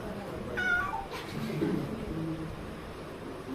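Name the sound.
cat meowing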